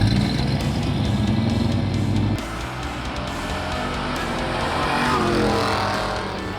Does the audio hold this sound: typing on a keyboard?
no